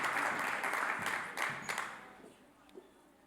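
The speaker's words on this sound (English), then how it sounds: "another round of applause for Chonnie" An audience applauds at a workplace gathering with a check presentation. The clapping is moderately faint and fades out toward the end as a voice starts over it.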